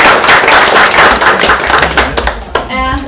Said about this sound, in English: So just a round of applause